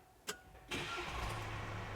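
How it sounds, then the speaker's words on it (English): A 2024 Mercedes Sprinter short luxury van starts at the push of a button. A brief click comes first, then the engine catches and settles into a steady, close idle. "To activate the car, you just have to push your foot on the brake and start"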